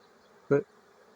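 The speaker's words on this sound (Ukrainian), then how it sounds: "а тут між рамками ось уже все забите бджолою" A swarm of honey bees packed between hive frames gives a short, close buzzing burst that swells and fades within a fraction of a second over a low, steady hum.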